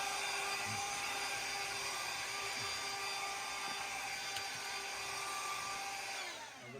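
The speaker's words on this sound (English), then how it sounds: "I'm doing a little mid-cooking vacuuming" A small vacuum cleaner runs steadily at close range in a kitchen mid-cooking, sucking up green onion debris, a constant whining drone that winds down near the end.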